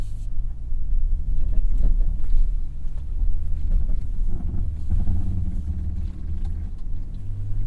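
A 2025 Nissan Armada PRO-4X crawls off-road in first gear with its wheels spinning, giving a steady low engine rumble with tire churn and wind buffeting, close and continuous, with no talk.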